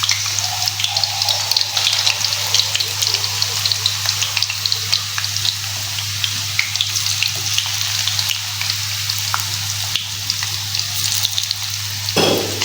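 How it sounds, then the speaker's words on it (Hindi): Hand-cut French fries for a children's lunch box fry in hot oil, a steady close crackling sizzle over a constant low hum, running unbroken without speech. "अब जो है हम इसके अंदर अपनी फ्राइज़ डालते हैं,"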